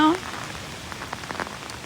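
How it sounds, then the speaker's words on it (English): Heavy rain from Hurricane Ian in the Tampa area, a steady dense patter of drops on surfaces with faint scattered splashes throughout. "it's just a lot of rain, a lot of random wind, you know?"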